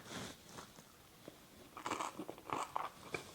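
Bites into a hot potato gratin with a crunchy Swiss cheese topping, a few quiet close-up crunches and chewing sounds, faint and intimate, with no talking.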